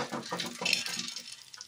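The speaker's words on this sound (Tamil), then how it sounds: "இது நல்லா பட்டு பட்டுன்னு தெரிக்கும்." Red lima beans splutter and pop in hot oil in a pan, with quick crackling bursts and sizzle over clinking cookware, close and moderately loud, with no talking.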